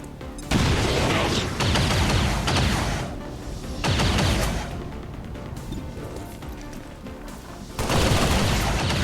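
A grenade blast and heavy battle noise from the tactics game XCOM 2 arrive as loud, dense bursts of booming crashes and rumbling that repeat in waves, with a brief voice between them.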